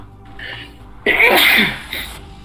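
A single loud, close sneeze bursts out after a faint intake of breath, followed by a short trailing exhale, during a tabletop Star Wars roleplaying game session.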